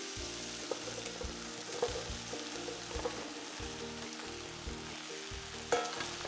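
Eggplant fries in oil in a pan, a soft continuous sizzle broken by occasional louder pops and the scrape of stirring, close and with no talking.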